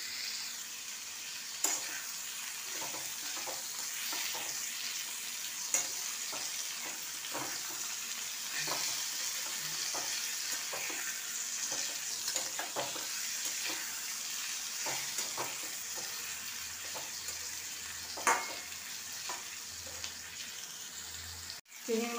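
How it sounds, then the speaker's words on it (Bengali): Prawns fry in a pan for a Bengali kudri chingri jhal, giving a steady close sizzle with scattered scraping and stirring clicks that run throughout before ending in a sharp clatter. "এর সাথে আমি ভেজে নিচ্ছি।"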